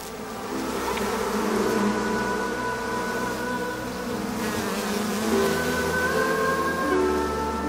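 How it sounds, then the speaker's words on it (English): A swarm of bees hums continuously around a baby's cot, a dense, steady drone with layered tonal whines that rise and fall, close and filling the scene from start to finish with no talk. "A swarm of bees descended on his cot as if around honey."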